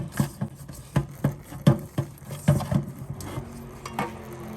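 Hands knead floury dough, producing a rhythmic series of soft, close thuds and slaps, several per second, with faint scuffing between them and no speech.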